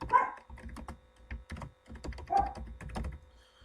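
Keys clatter on a computer keyboard while text is entered into cutting-machine design software, coming in irregular bursts of close, crisp clicks with short pauses between them.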